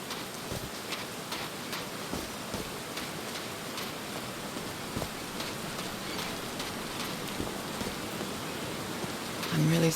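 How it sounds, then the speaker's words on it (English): Rain falls steadily in the video game Call of the Sea, a dense, even patter that stays constant throughout at moderate loudness, with a faint voice near the end. "These drops of rain are so refreshing."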